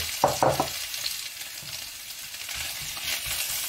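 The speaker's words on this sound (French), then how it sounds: "une fois que c'est chaud, on va commencer à faire revenir pendant 5 minutes notre oignon, ail" Onion, garlic and bell pepper fry in hot olive oil with a soft, steady sizzle. A couple of sharp stirring clicks come near the start.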